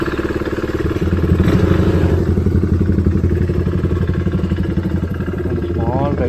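A KTM RC 390 motorcycle engine runs close and loud with a steady, throbbing single-cylinder rumble and clattery mechanical texture, holding a continuous pulse throughout.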